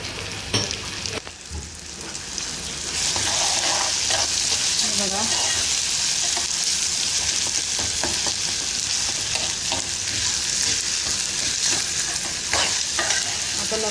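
Crushed garlic hits a pan of softened onions, a steady close sizzle rising after a quieter first few seconds, with scraping stirs and clinks breaking through, all heard without talk.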